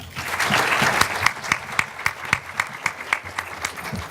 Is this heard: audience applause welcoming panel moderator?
yes